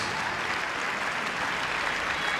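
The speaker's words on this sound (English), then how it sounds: "Ladies and gentlemen, I think they deserve a little bit more applause for that." Audience applause at an amateur Latin dance championship semi-final after the cha cha cha and samba rounds, a continuous, even wash of many hands clapping, sustained at steady volume throughout with no voices.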